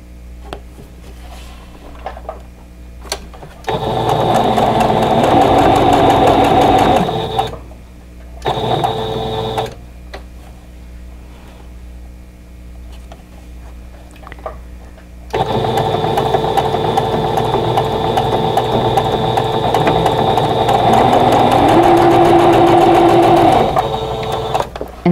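A sewing machine stitches a quilt block in loud, steady whirring runs of a few seconds, broken by short quiet pauses, then a long continuous run, with no talking.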